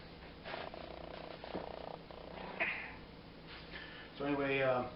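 A pet cat purrs close by in a steady low rumble across the clip, heard beneath a person's soft speech and a brief hushing sound.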